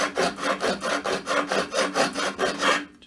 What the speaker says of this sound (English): I'll file a step for the hacksaw to sit in before I cut down.